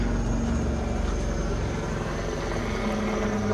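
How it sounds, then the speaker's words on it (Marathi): A steady rotor-and-engine drone of a helicopter, holding at an even, fairly loud level throughout with no breaks. "हेलिकॉप्टर"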